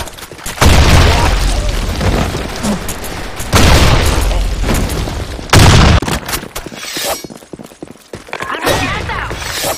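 Grenade blasts in Counter-Strike, several loud booming explosions with heavy low rumble, each decaying over a couple of seconds, followed by sharper scattered gunfire-like cracks near the end.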